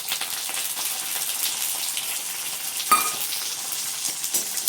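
Shallots, garlic and curry leaves sizzle hard in hot oil for a Tamil tamarind kulambu, a steady dense crackle with one sharp pop partway through; no talking.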